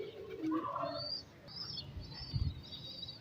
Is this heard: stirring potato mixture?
no